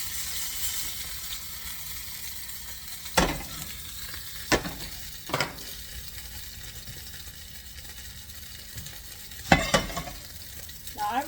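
Liver frying in a pan with bacon, a steady soft sizzle punctuated by several sharp scraping stirs of the utensil against the pan.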